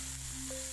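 Squash and tomato sautéing in a hot pan for Filipino laswa, a steady soft sizzle with a faint hum underneath, close and quiet, with no one talking.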